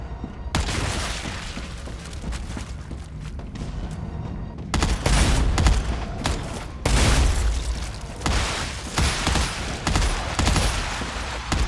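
Shotgun and heavy gunfire in a video game, a loud sustained barrage of booming blasts and rapid shots with a few bigger bursts standing out, close and dense throughout with no talk.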